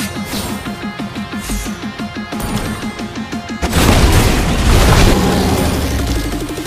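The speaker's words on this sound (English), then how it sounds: "Your team destroyed a turret." A turret is destroyed in the Mobile Legends game: a rapid ticking run of short pulses gives way to a loud, sustained booming blast that crashes in midway and rolls on to the end, with no talking.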